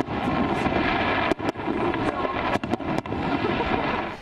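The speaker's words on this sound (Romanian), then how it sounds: "Luxosul turn Burj Khalifa din Dubai a fost rampa de lansare pentru artificiile de anul nou." New Year fireworks launched from the Burj Khalifa in Dubai: a dense, continuous roar of bursts and crackling, with several sharp booms standing out, loud and sustained with no voices over it.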